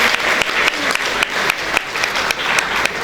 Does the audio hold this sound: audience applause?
yes